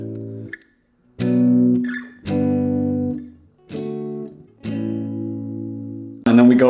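Guitar power chords for a beginner lesson on mgk's cliché ring out in a sequence of five sustained strums separated by short gaps, with a brief bright chord at the end.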